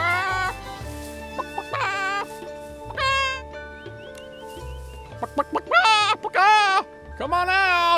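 An old man in the Infinity Nikki video game makes repeated clucking, hen-like calls, a voice imitating a chicken in bursts of rising squawks and clucks, close and clear over faint game background music.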